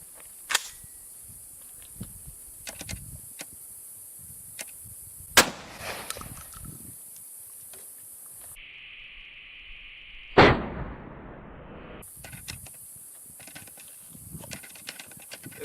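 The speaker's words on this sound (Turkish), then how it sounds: "Şu an atışımızı yapıyoruz ve etkisini hep beraber görüyoruz." A D-Doxcarms shotgun fires a blank cartridge at 2 metres, one sharp, loud report that quickly decays, set among a few smaller clicks and knocks in an otherwise quiet setting.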